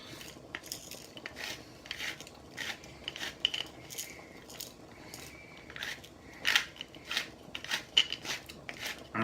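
Thick black pepper being cracked in a pepper mill for cacio e pepe, a close series of irregular gritty crunching bursts, fairly quiet, with no voice over it.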